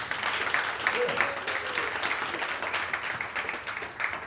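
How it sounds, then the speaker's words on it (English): An audience at a comedy club applauds in a dense, continuous burst of clapping, with voices mixed in. "Y'all clap for that shit, really."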